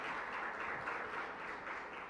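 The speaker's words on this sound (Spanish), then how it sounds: "Recibámoslo con un aplauso." An audience applauds to welcome a lecturer before a talk on memory and historical truth, a steady, even wash of clapping heard from some distance, fairly soft and with no voices over it.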